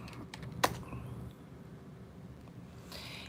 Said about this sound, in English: I'm just going to type in job searching.